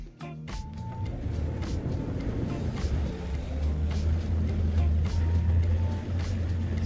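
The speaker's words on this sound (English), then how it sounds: "I'll just put high on and now I've got more acceleration with the engines." Boat outboard engines rev up into a steady, deepening low drone that grows louder as they accelerate in high mode, with faint water wash and a few small clicks early on.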